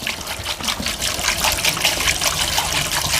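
Diluted vinegar poured into a metal gas tank to strip failed sealer, a steady close trickling and gushing of liquid that runs without a break and never lets up.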